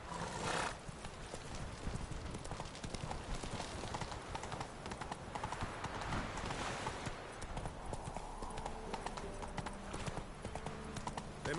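Roach the horse gallops in The Witcher 3, hooves pounding in a fast, steady clip-clop rhythm with occasional whinnies, loud and close, running continuously throughout.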